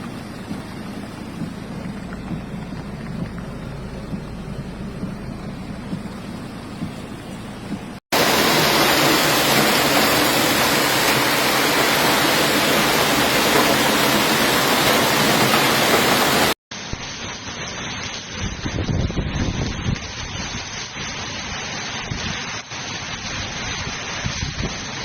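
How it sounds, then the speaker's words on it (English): Heavy rain during a hailstorm with flooded streets in Caravaca, Murcia, Spain: a loud, continuous rushing roar of downpour and running water, in three back-to-back stretches with abrupt cuts and shifting intensity. "Caravaca also saw hail and flooding in the streets due to the heavy rainfall."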